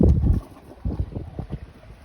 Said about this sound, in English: We're gonna go ahead and flip it on. That'll start it up. Probably hear the gurgling in there.